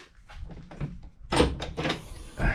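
An ARB Ascent ute canopy door is lifted open and then shut, giving a few close thuds and latch clunks spaced over a couple of seconds, with a stronger knock near the end.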